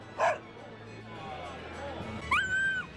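Cartoonish dog yips and barks from a character in the video game Tales of Berseria, a short bark near the start and a longer rising whine-like yelp near the end, over a quiet hum of game ambience.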